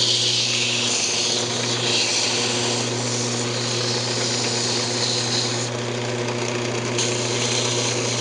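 Sandpaper rubs against a small cocobolo wood box spinning on a lathe, a steady close abrasive hiss over the constant hum of the motor, running evenly throughout.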